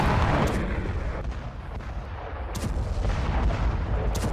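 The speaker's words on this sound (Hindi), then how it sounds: "विस्फोट से दहल गया आसपास का इलाका।" A heavy Russian aerial bomb explosion on a Ukrainian city roars as a sustained, loud, rumbling blast with deep low-end boom and crackling debris, continuing throughout.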